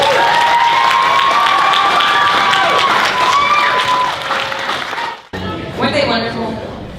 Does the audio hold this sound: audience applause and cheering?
yes